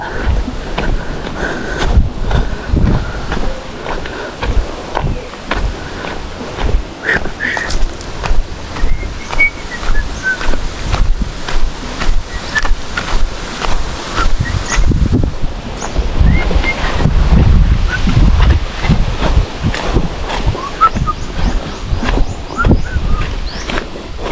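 Strong wind gusts roar across an open shoreline fishing spot beside a hut while someone casts a line. The wind buffets the microphone steadily for the whole stretch, with surf washing underneath and a heavier gust near the end.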